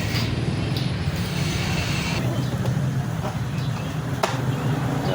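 An XR150 motorcycle engine fitted with a replacement clutch body runs steadily, giving a continuous rough mechanical drone with faint ticking, heard close up and without a break.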